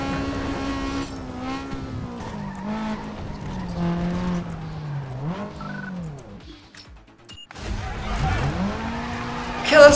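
An unupgraded Honda Civic races in Need for Speed: Underground 2, its engine whining upward and dropping through gear shifts. After a brief near-silent gap the revving returns, ending in a loud burst.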